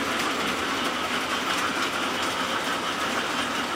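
A 1949 model train runs around a Christmas layout, giving a continuous, even clattering whir of small wheels on track that stays steady and fairly close throughout, with no talking.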